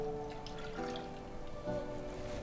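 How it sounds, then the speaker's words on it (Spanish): Whole milk poured into a pot on a stove over medium-low heat for traditional rice pudding, a steady liquid trickle and splash heard up close with no talk. "Vamos a agregar la leche."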